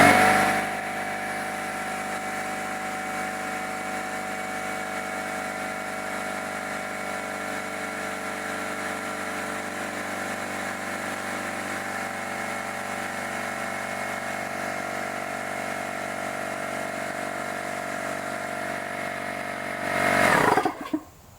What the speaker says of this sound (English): So we'll first start with the air compressor.